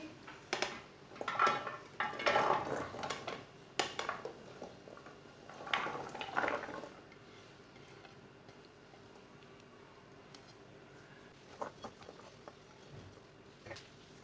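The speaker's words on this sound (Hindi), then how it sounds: "भिंडियों को डाल लेंगे।" Sliced okra tipped into a cooking pan, a quiet clatter of pieces tumbling and tapping against metal in the first seconds, then soft scattered ticks and clinks at low level with no talking.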